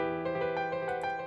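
Hip-hop beat with a delay effect preset turned fully on, sustained synth tones with echoing repeats smearing across each other, moderately quiet and brief.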